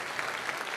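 Applause from a church congregation during a Catholic praise service in Portuguese, a short steady wash of clapping with no voices over it.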